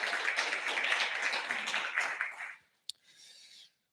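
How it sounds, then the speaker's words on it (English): Applause from a conference audience at a young scientists' event, a dense spread of clapping that fills about two and a half seconds before fading out, followed by a single sharp tap and a brief faint hiss. "A big round of applause for Dominic."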